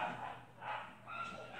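Two noisy pet dogs bark and yip in a few short bursts indoors, fairly close and loud, with faint background noise and no clear talk.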